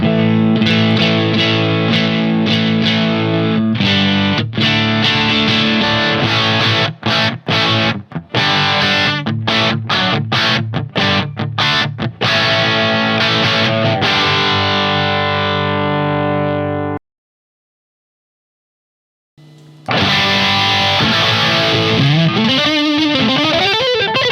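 Distorted electric guitar played through a NUX MG-50 Li amp modeler on its 1987X amp model with no cabinet IR, loud and continuous with chopped strummed chords, a roughly three-second silent gap, then sustained bending notes.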